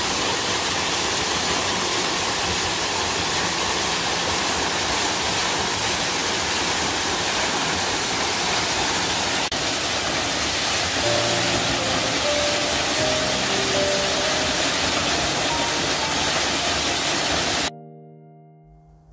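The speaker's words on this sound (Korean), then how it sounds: "곡계산의 매월대와 이어져 있는 높이 30m의 폭포입니다." Maewoldae waterfall, a 30 m cascade linked to Maewoldae cliff on Gokgyesan in Cheorwon, Gangwon-do, pours with a loud, steady, unbroken roar of rushing water. Faint tonal notes rise over the noise later before it cuts off.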